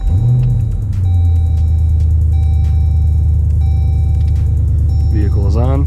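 A Jeep SRT engine fitted with an E85 conversion kit idles with a steady, deep rumble and a faint high whine throughout, and a brief voice-like tone rises near the end.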